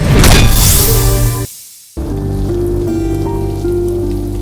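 Heavy rain falling in a dense steady hiss, loud and close, cut off briefly by a moment of silence before resuming, with a faint low hum underneath.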